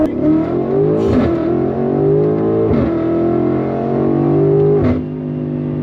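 A BMW X5M SUV's engine roars under hard acceleration past a stoplight, loud and close, climbing in pitch with brief dips at two gear shifts, and no talking.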